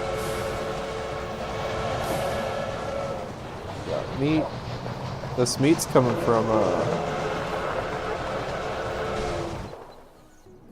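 Manifest freight train in a Milwaukee Road railroad video game, a steady rolling rumble of wagons with brief squealing wheel tones midway, running under continuous talk before cutting off near the end.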